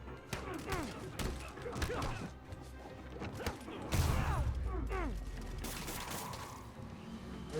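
Criminals shoot at Spider-Man in the PS4 Spider-Man game: scattered gunshots mix with crashes, thuds and impact effects in a busy fight, with occasional voices and grunts in the mix.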